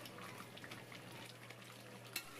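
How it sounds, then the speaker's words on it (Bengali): Fried potatoes stirred into chicken curry in a pan, a steady soft sizzle of oil with faint scraping stirs and a brief clatter near the end, fairly quiet throughout. "আলুটা মাংসের সাথে কষাবো"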